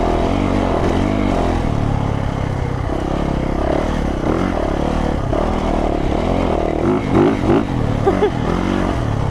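A Yamaha YZ450 dirt bike engine droning loud and close while riding off-road, holding a steady rough roar with small throttle swells near the end.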